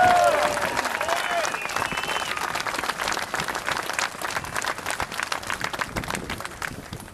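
A large outdoor crowd at a Second Amendment rally in Boston, Massachusetts claps and cheers loudly. The applause is continuous and fills the whole stretch, with a voice briefly audible near the start before it tapers slightly.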